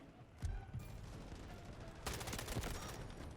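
K-416 assault rifle fire in the shooter Delta Force, heard fairly faintly: a couple of isolated shots, then a sustained rapid automatic burst over the last second or so.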